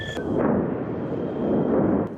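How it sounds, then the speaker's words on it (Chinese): Israeli soldiers firing guns in celebration, heard as a dense, sustained roar of rapid fire with no clear gaps, steady and loud throughout. "川普因为力挺以色列立场明显，以色列士兵开心到鸣枪庆祝。"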